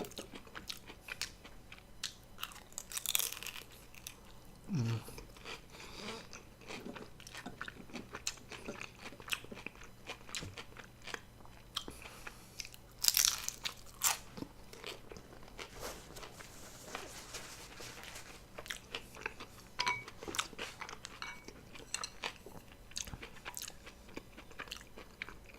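Crunchy crust of a vegan meat pie being bitten and chewed up close, with repeated crisp crunches and soft mouth sounds in irregular bursts, no talking.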